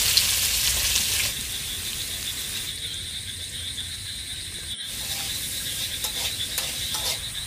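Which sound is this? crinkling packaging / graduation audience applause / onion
onion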